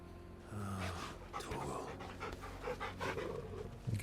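Torgal, the dog companion in Final Fantasy XVI, pants steadily and quickly at close range, a rhythmic breathy huffing heard over soft game ambience, with no speech.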